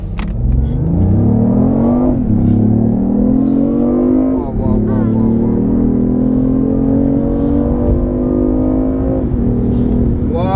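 A BMW i8 accelerates hard, its engine rising in pitch through several gear shifts, loud and close from inside the cabin, with a voice speaking briefly.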